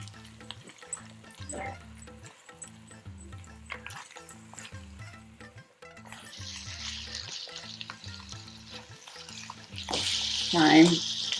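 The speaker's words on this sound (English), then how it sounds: "We'll add the chopped culancho, also known as bandania, the thyme and the scallions, and continues to stir to combine" Chopped culantro, thyme and scallions stirring and frying in a pot of spinach and split pea kitcherie, a steady low sizzle with repeated scraping stir strokes, growing louder and hissier toward the end.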